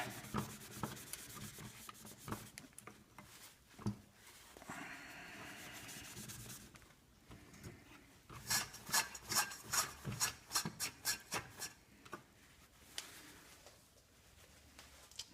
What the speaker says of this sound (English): I'm using the awesome toilet paper method to clean off the heatsink